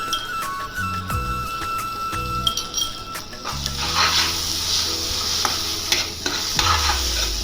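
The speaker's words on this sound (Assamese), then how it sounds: "তো আকো ভালদৰে লৰাই ভাজি লোৱা হৈছে" A paste of ginger, garlic and chili is stir-fried in a pan, with scraping stirs and clinks of the utensil over a continuous sizzle that grows louder and fuller partway through.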